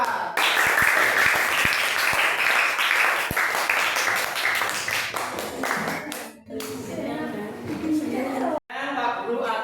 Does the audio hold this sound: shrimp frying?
no